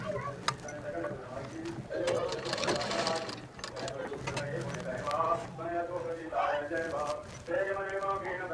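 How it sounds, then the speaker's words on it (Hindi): A sewing machine stitches lace onto a blouse in quick rhythmic bursts of rapid clicking, heard close under someone speaking throughout. "हम ये लेस को स्टिच कर रहे हैं।"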